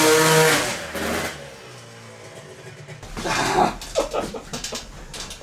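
A racing dirt bike engine fitted in a homemade mini street quad revs hard in bursts, dropping back to a lower drone midway before climbing again in a rough, rising roar close by.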